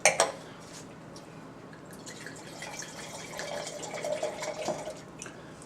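Water splashes and drips while a wine glass is rinsed out, starting with a sharp clink and splash, then a steady trickle with small dripping sounds, heard close and fairly quiet with no talking.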